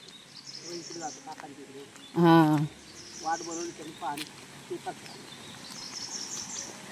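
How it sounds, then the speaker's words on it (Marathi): Birds call in a village forest: a few short chirps and whistles, fairly distant, over a faint insect and background hiss, with one brief spoken interjection. "पक्ष्यांचा आवाज बघा"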